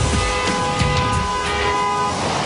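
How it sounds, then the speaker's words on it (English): A bike horn sounds in a sustained, steady electronic tone for about two seconds, loud and close, with faint background noise around it. "The horn works"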